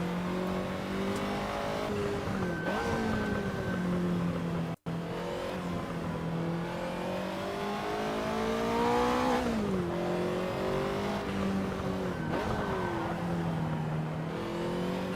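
Race car engine in a Ferrari esports racing game at Zandvoort, running steadily with rising and falling revs through gear changes, loud and continuous with a brief dropout, alone without talk.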